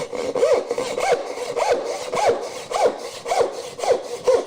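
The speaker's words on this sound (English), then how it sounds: "I would go in and I would start it with the tenon saw." A tenon saw cuts through wood in steady back-and-forth strokes, about eight rasping passes at an even rhythm, close and fairly loud with nothing else heard.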